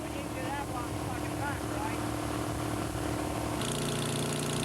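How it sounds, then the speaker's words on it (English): A gasoline engine drives the pump and auger of a crack sealer machine used to feed sealant into pavement cracks, a steady loud mechanical drone running throughout, with a brief voice early on. "Both the pump and auger are powered by a gasoline engine."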